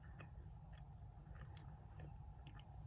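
Faint close-up chewing of a dark chocolate bar, with soft irregular moist clicks and squishes over a low steady background hum, no speech.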